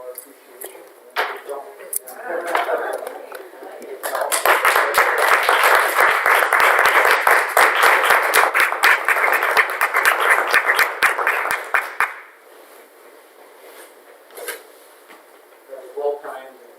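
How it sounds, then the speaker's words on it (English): Applause at a school board meeting, given in appreciation of district staff: a long burst of dense clapping that builds quickly, holds steady and then fades out, with talk before and after it. "we could give a round of applause, maybe a standing ovation for our staff"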